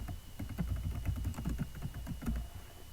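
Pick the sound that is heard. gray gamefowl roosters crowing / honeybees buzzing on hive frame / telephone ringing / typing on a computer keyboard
typing on a computer keyboard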